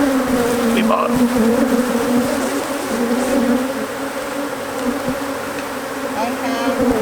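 Honeybees from a strong hive hum in a dense, steady drone close by, with individual bees buzzing past now and then over the constant swarm.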